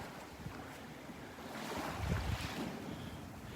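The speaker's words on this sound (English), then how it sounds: "Boat heading out the pass there." A boat heads out through a beach pass at Delnor-Wiggins on a morning fishing run, its distant engine rumble blending with surf and gusty wind noise on the microphone, swelling slightly midway with no talking.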